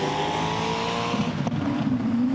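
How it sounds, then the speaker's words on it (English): A drift car's engine labours and is held back during an FIA Motorsport Games Drifting Cup qualifying run, a loud continuous drone with a rising tyre-squeal tone toward the end. "you can just hear the engine sort of being held back there"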